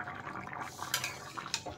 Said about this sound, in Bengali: দেখেন ঝোল কিন্তু ফুটতে শুরু করেছে